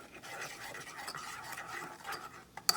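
A spoon slowly stirs a thick homemade butter sauce in a pot, making soft, faint scraping and swishing strokes in a loose rhythm, ending with a brief sharper clink of metal.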